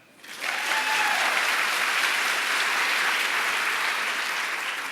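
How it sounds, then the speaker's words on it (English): An audience breaks into loud applause for students at an evening event honoring students and educators. The clapping swells in quickly after a brief quiet start and stays full and sustained. "You can clap for that."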